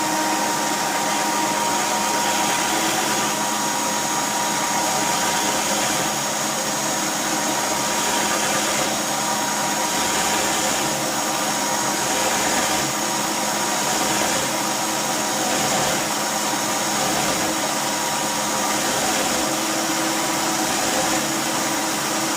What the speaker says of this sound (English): I took quite a few strokes off with the hacksaw blade, and that's because I want to get as deep as I can.